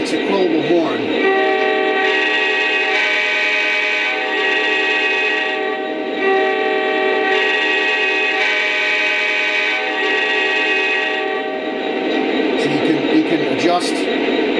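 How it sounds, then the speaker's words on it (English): A Lionel O scale Union Pacific #4141 SD70ACE model locomotive sounds its quillable horn in loud, sustained multi-tone blasts that swell and ease in intensity for about twelve seconds before cutting off. "if you slide the horn down, it's a quillable horn."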